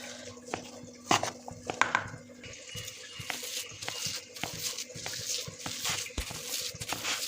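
A spoon works mashed potato samosa filling around a bowl, giving soft wet squelches and scattered clicks and taps against the side, fairly close and quiet, with no talking.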